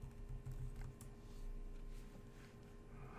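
Keystrokes on a computer keyboard while entering a Linux shell command, a few soft taps over a steady low hum, faint and close.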